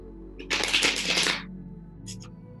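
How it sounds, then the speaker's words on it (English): Tarot cards being shuffled, a quick riffling burst of papery flutter lasting about a second, then a brief second flick, close and fairly soft in a quiet room. "One more shuffle."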